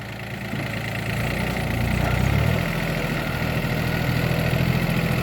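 A Yanmar KE4 tractor engine runs with a 1.5-metre rotary tiller attached, a loud, steady close-range drone that swells briefly, then settles back to an even throb, with no voices.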